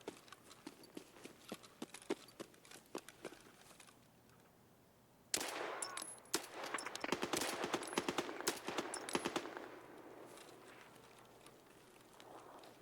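Distant gunfire in Escape from Tarkov: scattered faint shots at first, then a louder stretch of rapid crackling bursts midway that fades back to quiet ambience, with no talking.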